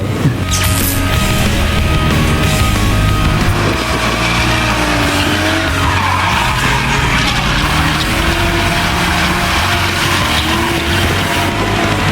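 A manual-transmission race car with a stiff modified clutch launches off at a practice track, its loud engine roaring and rising steadily with tire noise throughout, close and without talk.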